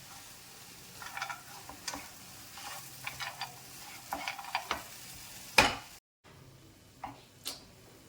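Scrambled banana, egg and cashews stirred while frying in ghee, with soft intermittent scrapes and a faint sizzle and a brief louder clatter near the end, and no talking.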